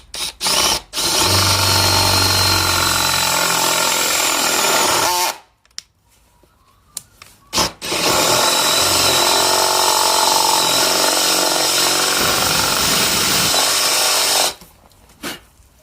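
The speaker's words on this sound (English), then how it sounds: "when you drill the concealed hinge hole, don't drill all the way." A power drill boring a concealed cabinet hinge hole: two long loud spells of steady whirring and grinding close up, separated by a brief pause with small clicks, then quiet handling at the end.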